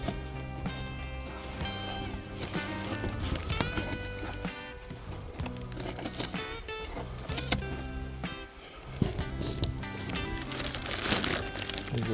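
Paper packaging from a roll-up tonneau cover for a Dodge Ram 1500 pickup crinkles and rustles near and loud in repeated handling bursts, with a short pause before resuming.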